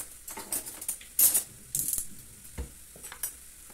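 A spoon being picked up and clinking against dishes while preparing a fruit portion, with several close, bright metallic taps and rattles spread unevenly across the moment.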